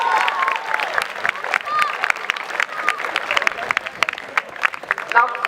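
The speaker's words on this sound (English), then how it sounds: "please give him a well-deserved round of applause" Audience applause at a senior investiture school ceremony: fairly steady, moderately loud clapping from a crowd, with some voices mixed in over the top.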